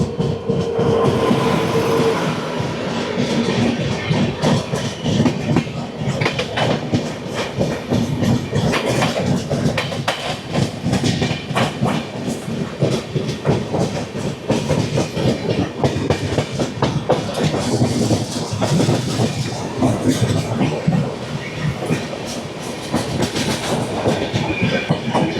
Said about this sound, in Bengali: এবার আমাদের পাস করবে ট্রেন নাম্বার 15960 ডিব্রুগড় থেকে হাওড়ার পথে ডাউন কামরূপ এক্সপ্রেস